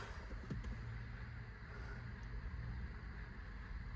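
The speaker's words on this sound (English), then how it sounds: "let's give it a tickle. That sounds wrong." A Lotus Elan engine idling after a clutch job, sounding rough and wrong, a steady low rumble with a faint rattle, close and continuous.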